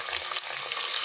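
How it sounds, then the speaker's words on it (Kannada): Green chillies and onions frying in a pan with whole spices (cinnamon, cloves, cardamom, bay leaf) for tomato rice give a steady, close, bright sizzling hiss over a second. "ಫ್ರೈ ಮಾಡ್ಕೊಳ್ತೀನಿ"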